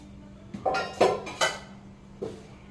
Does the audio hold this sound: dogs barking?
no